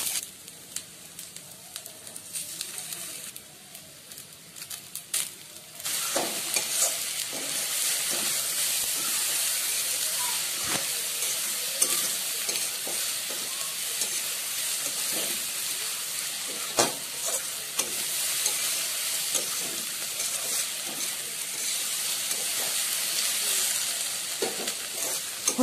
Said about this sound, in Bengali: হলুদের কাঁচা গন্ধ যাওয়া অবধি ভেজে নিতে হবে।